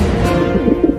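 A cartoon pigeon being caught by a cat gives a short burst of loud, close cooing and fluttery bird calls, a few quick warbling notes over about a second.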